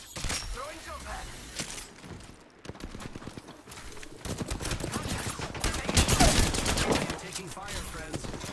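Rapid gunfire bursts from the Apex Legends battle royale on PS5, dense, loud crackling volleys with in-game effects, building toward a heavier exchange near the end, with a voice talking over it.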